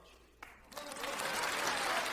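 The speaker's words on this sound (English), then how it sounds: "She waited for the applause to subside" Audience applause after a lecture, used as an audiobook sound effect: a quiet start, then a brief clap or two before a broad wash of clapping swells and holds steady at moderate level.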